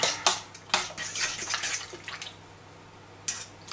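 Pumpkin pie filling being mixed in a bowl, with a few sharp utensil knocks against the bowl's side followed by softer scraping and stirring strokes, close by and without talk.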